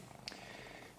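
A chubby, not-pregnant house cat purrs softly and steadily close by, a low continuous rumble with one brief higher squeak near the start.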